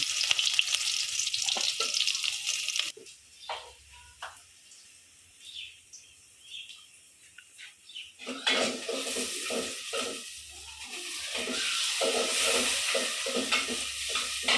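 Onions frying in a pan for a Bangladeshi village curry, a steady close sizzle with scraping stir strokes, dropping to quieter scattered clinks midway before the loud frying resumes.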